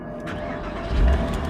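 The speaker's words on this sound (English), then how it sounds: "So, foot on the clutch, let's turn it on." A Porsche Boxster engine starts up close: the starter churns into a loud, steady idle, with a brief surge about a second in, and no voices.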